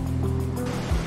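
Ocean surf rolling in a steady, continuous wash of low rumbling water, loud and close with a brief surge near the end, no voices.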